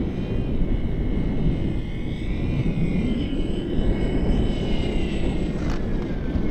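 A Dynam P-61 Black Widow RC model warbird, 1500mm with 4S electric power, passes overhead with a steady droning motor and propeller whine, fairly loud and sustained throughout with a slight swell partway through.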